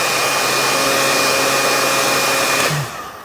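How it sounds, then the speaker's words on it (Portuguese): A handheld hair dryer blows steadily at full power, a loud continuous whooshing roar with a faint whine, then switches off and winds down near the end, used to heat a gas in a physics demonstration. "Eu posso aquecer também com um secador."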